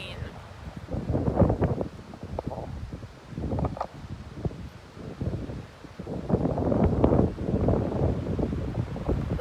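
Strong wind gusts buffet the microphone outdoors at a lakeside or seaside viewpoint with whitecaps and rain starting, a loud roaring rumble that swells and dips in waves, with a voice talking over it at times.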